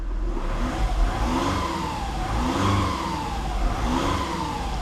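A 2014 Volkswagen Polo diesel engine idles steadily close by, a low rumble with gentle swells in revs rising and settling back.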